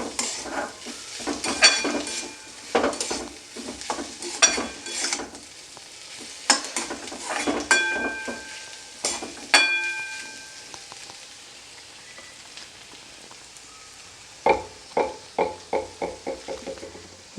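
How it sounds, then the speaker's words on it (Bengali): Fried potatoes tossed into spices in a frying pan, a spoon scraping and clacking against the pan in bursts of stirring strokes over a steady sizzle, with a final quick run of knocks near the end. "মশলার সঙ্গে আলুটা ভালোভাবে আমি মিশিয়ে নেব।"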